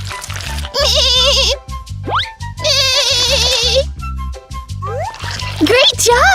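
Sheep bleating in a children's pretend-play vet show, short wavering bleats recurring among bright cartoon music and sound effects, with children's voices in between.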